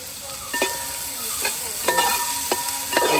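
Sliced onions fry in a pan for a Kerala-style chicken roast, a bright steady sizzle broken by several sharp scrapes of stirring.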